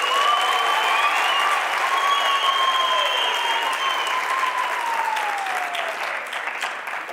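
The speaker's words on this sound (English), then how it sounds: "I think the choir deserves another round of applause." An audience applauding a choir at a university ceremony, sustained crowd clapping for several seconds with a few cheers rising over it, then slowly thinning toward the end.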